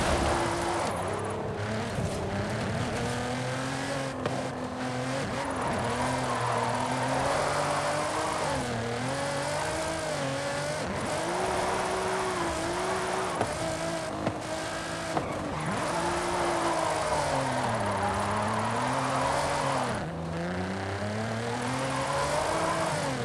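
A Nissan GT-R with a VR38DETT engine drives in Forza Horizon 5, its engine droning steadily throughout with rising and falling revs as it shifts and drifts, loud and continuous.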